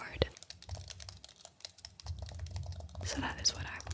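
Typing on a computer keyboard in a quiet ASMR setting: close, soft clicks in irregular bursts, with faint whispering under them.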